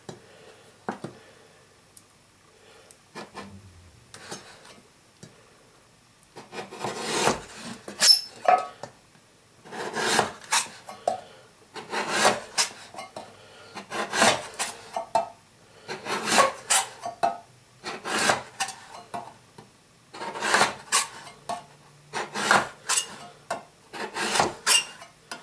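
A stainless steel knife sawing into a small Bonduelle corn tin can: repeated rhythmic rasping, scraping metal strokes, close and distinct, with quiet pauses between strokes.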